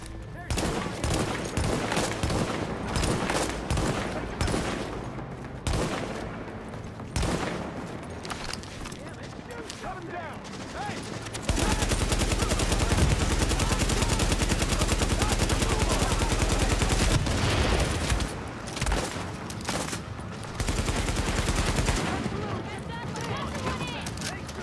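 Rapid, loud gunfire from snipers and automatic weapons fills a firefight in the video game Tom Clancy's The Division, with dense bursts and a sustained heavy barrage midway, as players talk beneath it.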